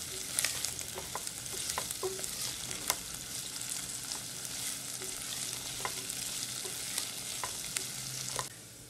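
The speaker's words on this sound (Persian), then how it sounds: "سیب زمینی و پیاز رو با هم یه مقداری تفت میدم" Chopped potatoes and onions sauté together in a pan for a quick cherry tomato rice dish, giving a steady close sizzle with frequent scraping stir strokes throughout, no talk.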